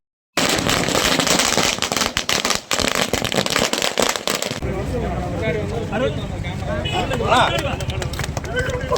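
A rapid burst of loud firecracker bangs crackles densely for several seconds, then gives way to noisy crowd chatter and voices.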